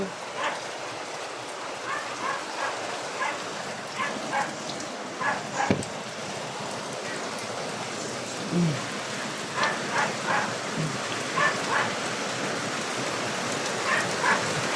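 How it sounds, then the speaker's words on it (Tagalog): A steady, dense hiss of heavy rain pours down after a fire, with bursts of voices calling and talking over it. "Yan, malakas na ulan."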